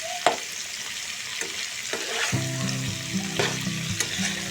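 Bamboo shoot and carrot pieces are poured onto kalonji seeds frying in hot oil, giving a steady close sizzle. Ingredients drop in with soft thuds, then a utensil stirs the pan with scraping strokes.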